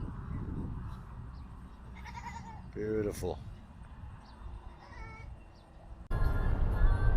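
A sheep bleats once, mid-range and fairly close, over steady wind and outdoor noise in the desert; a person speaks briefly.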